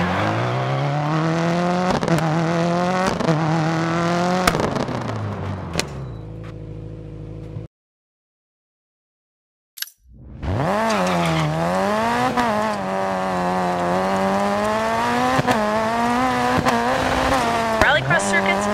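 A rally car engine in the Dirt 4 game revs and shifts through rising and falling pitches on a mixed-surface rallycross circuit with tight hairpins, cutting to silence for about two seconds before roaring back.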